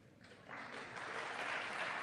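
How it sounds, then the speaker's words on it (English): An audience breaking into applause, the clapping swelling from quiet to a steady, somewhat distant patter that continues without voices over it. "A little bit of applause there."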